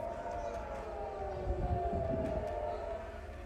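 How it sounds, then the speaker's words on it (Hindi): An air raid siren wails steadily during a rocket attack in Israel, a sustained rising and falling tone that holds throughout, with faint background noise underneath. "तीन शहरों में जंग का सायरन बजने लगा है"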